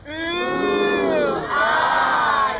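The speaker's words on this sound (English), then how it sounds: "you people aren't clapping as loud as you possibly could" A crowd at a festival talk roars and cheers loudly, many voices shouting together in two swelling waves across a few seconds, with little distinct clapping.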